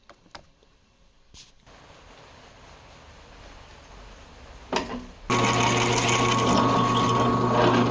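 A drill fitted with a 21/64 inch bit, used during a VIAAIR 485c twin air compressor install, bores a hole. A few clicks and a brief burst come first, then the drill motor starts and runs with a loud, steady whine close by.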